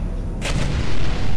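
Turret gunfire in the video game Portal 2, a sudden sharp burst of shots followed by a rumbling, booming tail at close range.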